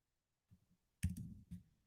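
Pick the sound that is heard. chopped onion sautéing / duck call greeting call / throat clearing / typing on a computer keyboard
typing on a computer keyboard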